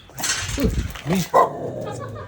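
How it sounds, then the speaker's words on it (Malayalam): A dog gives a few short, close barks and yips in quick succession, with people's voices mixed in. "അതാ പട്ടി"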